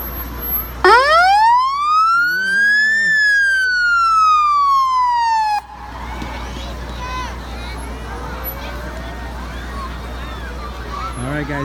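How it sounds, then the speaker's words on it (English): A Metro Toronto police car at a Christmas parade sounds its siren in one loud, close, wailing sweep that rises and falls for about five seconds and then cuts off, leaving crowd murmur and street noise. "Let's see if it's going to make its siren go off."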